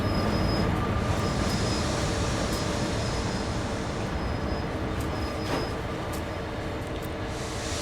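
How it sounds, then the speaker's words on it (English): A train in Train Sim World 3 rumbles steadily along the main line through Cajon Pass with a constant heavy roll and faint high squeals of wheels, continuous for several seconds. "We got a train coming down the main line."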